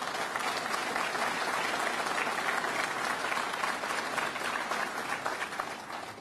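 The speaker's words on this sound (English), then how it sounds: "Let's give him a round of applause." An audience at a Lake Placid campaign event gives a sustained round of applause, dense steady clapping from many hands filling the room at an even level before tapering slightly at the end.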